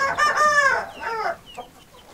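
An Indian breed rooster crows loudly and up close in one long, strained crow that tails off, followed by a few short softer calls.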